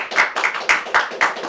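A small group claps in a quick burst of distinct, uneven handclaps, several sharp rounds close together and fairly loud.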